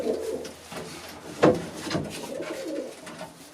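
Pigeons coo softly in a loft during a vaccination session, low murmuring calls repeating around a brief louder rustle or knock near the middle.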